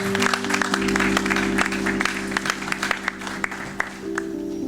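Church congregation applauds with scattered, uneven claps over a sustained organ-like keyboard chord, the clapping thinning out into sparse individual claps toward the end.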